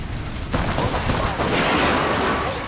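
Rapid gunfire crackles in a video game match amid kill-leader announcements and thermite grenades, a dense, continuous barrage that stays loud for the whole stretch with a voice faintly underneath.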